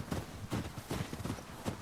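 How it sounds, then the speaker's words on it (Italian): Horse hooves clip-clop in an even walking rhythm in The Last of Us Part 2, several soft thuds close by with no talk over them. "Tanto i cavalli ci vengono dietro"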